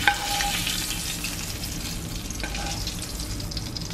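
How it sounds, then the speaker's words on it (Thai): Beef steak sizzles and crackles steadily in a hot pan, a close, continuous frying hiss with a few small clinks. "เราก็เอาลงไปลงกระทะไว้ก่อน"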